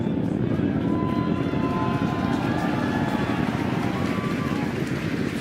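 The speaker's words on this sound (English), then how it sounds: "you are watching a live view of the Falcon 9 rocket as it ascends through the atmosphere" A SpaceX Falcon 9 rocket climbing through the atmosphere gives off a steady, dense, wind-like roar that stays loud and unbroken throughout, with no clear speech.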